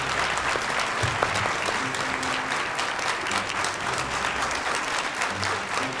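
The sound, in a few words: audience applause welcoming a judge on stage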